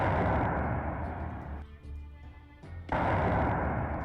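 Explosions in Arcanum sound as heavy booming blasts, loud and sustained at the start, a quieter gap with a lingering rumble, then another loud blast near the end.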